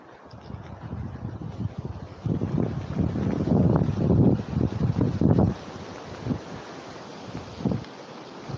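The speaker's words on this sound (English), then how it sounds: "The noise of the wind in the trees is a little disturbing." Wind gusting through trees in the woods, a steady broad rushing that swells loud in the middle and eases off toward the end, with no voices.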